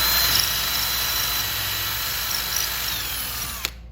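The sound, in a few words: drilling alignment pin hole into wooden bow block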